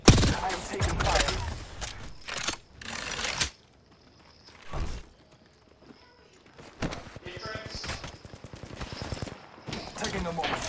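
Gunfire in the Apex Legends battle royale shooter, sharp bursts of rapid shots in clusters at the start and again later, separated by quieter stretches with faint footsteps and game sounds.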